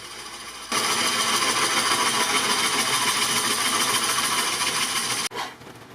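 Skew chisel cutting a wood tenon on a spinning lathe for a wooden vase, a loud continuous broadband hiss and rasp starting abruptly and running steadily for about five seconds, then cutting off over the motor's hum.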